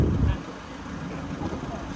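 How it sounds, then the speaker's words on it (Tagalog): Steady wind rumbles and buffets the microphone, with a stronger low gust at the start that settles into a constant outdoor roar. "Medyo mahangin dito."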